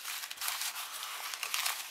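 Paper slips for a prize draw at a dance are stirred by hand, a dense close rustling and crinkling that continues throughout with no talk.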